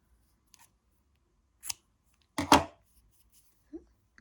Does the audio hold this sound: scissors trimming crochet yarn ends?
yes